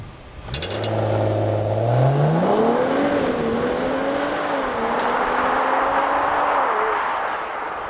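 A Mercedes-AMG CLE 53 accelerates hard along a narrow road, its engine note climbing through several gear changes with close, loud revving that holds strong for several seconds before easing.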